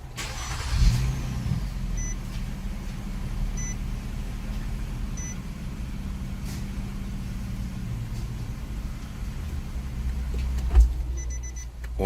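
A 2012 Nissan Maxima with an air-sensor fault cranks and starts, then settles into a steady low idle, with a few faint electronic beeps over the engine hum.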